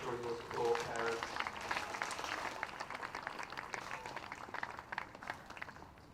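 Parents clap steadily for the full stretch at a prep school sports day in an athletics stadium. The applause is moderately loud and fades slightly toward the end, with voices mixed in.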